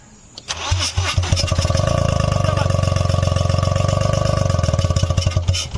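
A Mahindra TUV 300 diesel engine with leaking valves cranks and catches, then settles into a loud, close, steady rattling idle that runs to the end.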